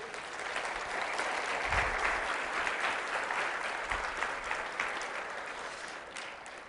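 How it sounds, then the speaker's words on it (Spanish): Members of a church congregation clap together for the Lord, a steady wash of applause from a crowd at moderate distance that slowly thins toward the end. "¿Cuántos le dan palmas al Señor?"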